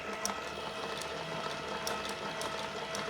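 A Caydo I-cord tricotin knitting machine runs with a steady mechanical whir and regular ratcheting clicks, moderately loud and close, with no talking.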